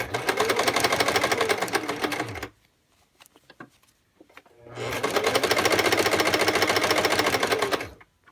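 A sewing machine stitches a skirt waistband in two bursts of rapid, even mechanical whirring, close and loud, separated by a pause of about two seconds with faint handling clicks.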